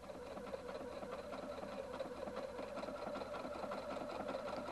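A Husqvarna Viking Designer 1 sewing machine runs a bridging stitch joining lace to a finished edge with an edge joining foot, a steady rapid mechanical whir and needle patter, continuous and close.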